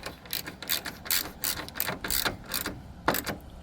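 A 10mm socket ratchet clicks in quick repeated strokes while tightening down the mount for an oil separator can on a Ford Explorer, close and crisp with no talking.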